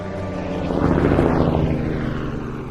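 A military helicopter carrying soldiers roars overhead with steady rotor and engine noise, swelling to a peak in the middle before easing off and sliding lower in pitch as it moves away.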